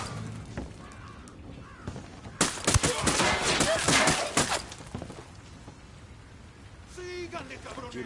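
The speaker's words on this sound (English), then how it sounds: "Opening fire." Dense, loud bursts of video game gunfire and impacts run for a couple of seconds in the middle, with people talking over the game audio before and after.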